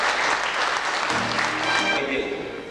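Applause from an audience at a family-day celebration in a district house of culture, a broad sustained clatter of many hands filling the clip, with voices mixed in and the clapping thinning slightly toward the end.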